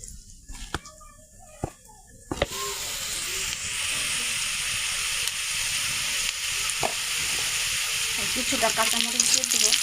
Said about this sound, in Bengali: পেঁয়াজটা ভাজা হয়েছে দেখতে পাচ্ছি